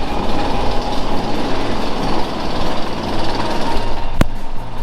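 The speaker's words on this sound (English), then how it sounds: "You can see next train just going up there." A steady mechanical rumble with rhythmic clanking as a roller coaster train at Alton Towers is hauled up a chain lift hill, loud and continuous with a sharp click near the end.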